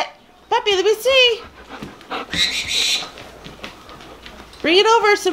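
A dog pants and breathes in quick, close bursts while tugging at a wrapped present, with people talking excitedly around it during a holiday gift opening.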